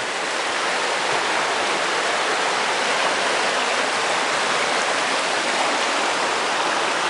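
Steady broadband rush of a flowing muddy river, loud and continuous throughout, with no voices.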